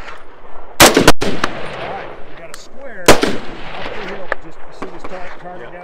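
Tavor rifle shots at an outdoor range: two sharp, loud reports about two seconds apart with a few quieter cracks between, followed by people talking at close range.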